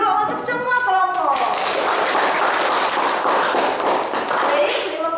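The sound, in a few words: students applauding the groups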